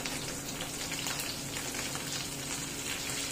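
Taro root (arbi) pieces frying in oil in a pan for crispy dahi arbi, giving a steady, dense sizzle that holds constant and close throughout with no talk.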